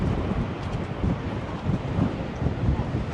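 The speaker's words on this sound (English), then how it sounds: "You can probably hear the wind as well." Gusty wind on the Blackpool seafront buffets the microphone in a continuous low rumble with uneven surges, loud and close.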